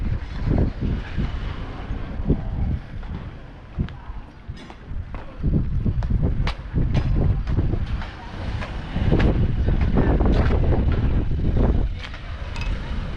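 Boat on the Mekong river at Tha That Phanom, its engine rumbling with wind buffeting the microphone and irregular knocks and splashes, steady and fairly loud throughout.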